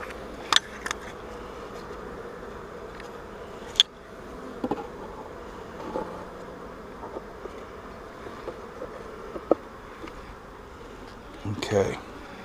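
Bees buzzing around mating nuc hives, a steady low insect drone with occasional sharp clicks and knocks close by, and a person speaking briefly over it.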